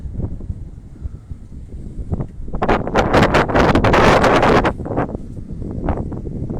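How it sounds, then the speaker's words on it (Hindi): Strong gusts of wind buffet a rooftop pigeon loft, roaring into heavy microphone-battering bursts in the middle and easing to a lighter rustle at either end, with no voices. "हवा बहुत तेज चल रही है जी"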